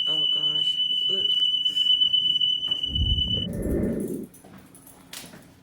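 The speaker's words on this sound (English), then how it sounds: "Set off the alarm in the house" A household smoke alarm sounds a steady high electronic tone that stops partway through, with a dog whimpering and a burst of louder noise near the middle.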